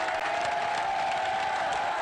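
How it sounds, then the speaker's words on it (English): Crowd at a bowling men's world cup final cheering and applauding, a dense, steady roar of clapping and voices from a large audience, sustained throughout. "And the appreciative roar of the crowd."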